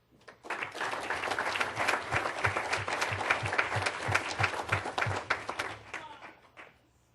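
A board meeting audience claps for Siki Liu in a full, steady round of applause lasting several seconds, then tapers off to silence.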